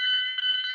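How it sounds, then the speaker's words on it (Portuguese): A fire alarm rings with a steady, shrill electronic tone that pulses slightly, loud and alone without any talk. "O alarme de incêndio que prometeram que não ia voltar"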